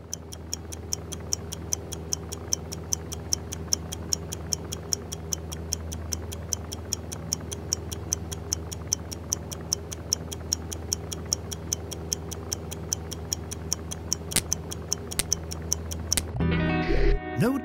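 A steady mechanical tick repeats at an even, quick rhythm for many seconds in the spy puzzle game I Expect You To Die, moderately quiet over a low hum, before it stops abruptly near the end.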